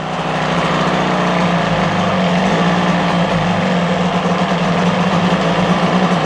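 A 1977 Johnson 9.9hp Seahorse outboard motor with a freshly rebuilt carburetor runs close up with a steady, buzzing drone that sags slightly as it nears stalling, with no talk over it.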